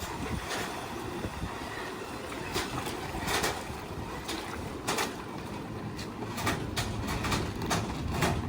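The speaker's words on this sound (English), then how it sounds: "I love watching big boats get in the water" A big boat being put into the water at a launch, heard as a steady outdoor wash of water and wind noise with scattered clicks and knocks, fairly distant and continuous.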